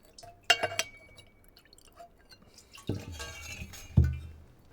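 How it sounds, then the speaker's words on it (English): A valinch dipped into a whisky cask in the Laphroaig distillery warehouse to mix the spirit, a few sharp glassy clinks and knocks with soft liquid drips between them, close and fairly quiet. "We now get the Valenche into the cask here. Give it a wee mix so we mix the kind of flavours up."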